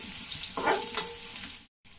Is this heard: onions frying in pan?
yes